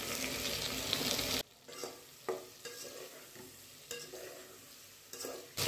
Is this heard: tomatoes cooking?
yes